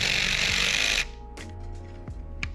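Small screws being tapped into a Stihl FS131 trimmer during a short block replacement: about a second of loud, dense buzzing, then three sharp, close metallic taps spaced apart over a quiet background.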